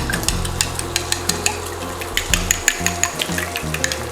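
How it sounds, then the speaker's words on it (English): Bacon crisps in a pan with a steady, close sizzle and hiss, broken by a regular rhythm of small popping ticks over a low humming tone. "while our bacon is going ahead and crisping up"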